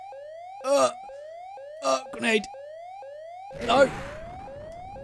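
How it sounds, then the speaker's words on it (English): A house alarm siren wails in the video game Dead Pixels, a loud rising electronic tone repeating steadily across the whole stretch while someone shouts over it and a burst of noise near the end. "I set off some kind of alarm."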